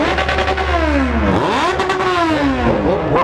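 Yamaha XJ6 motorcycle at a drag race, loud close engine revving in rapid rising and falling sweeps, the pitch climbing and dropping repeatedly with several overlapping engine tones.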